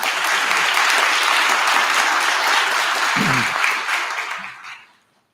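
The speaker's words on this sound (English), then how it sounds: "Can we give our amazing student leaders a round of applause?" Crowd at a college honors convocation applauding student leaders, sustained loud clapping from many hands filling the hall, then fading out near the end with a brief low voice or cheer midway.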